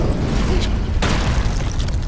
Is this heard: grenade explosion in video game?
yes